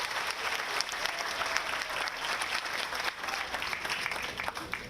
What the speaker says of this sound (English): Let's give the band a round of applause, ladies and gentlemen.